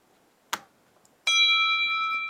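An iPhone system-event tweak plays a bell notification on power off: a short click, then a bright ringing bell tone that sustains to the end.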